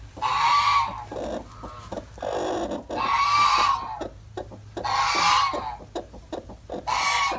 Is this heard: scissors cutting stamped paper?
no